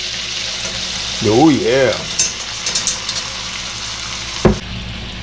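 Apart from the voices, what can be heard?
soy sauce added to sizzling shrimp stir-fry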